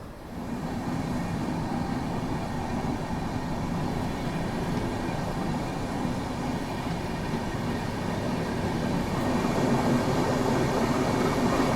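Trains roll into a station on the line from Delhi one after another, heard as a steady, heavy rumble of wheels on track that grows slightly louder toward the end.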